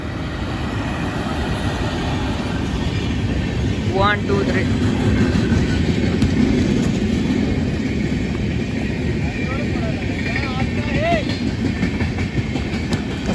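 A steady, heavy rumble of a train rolling very slowly along on rails near Boisar, Maharashtra, loud and continuous throughout, with a person speaking briefly over it.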